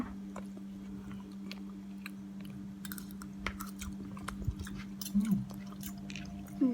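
Someone chews a mouthful of rice mixed with shrimp paste and shredded egg, served fresh and hot, with soft, moist chewing sounds close to the mic over a steady low background hum.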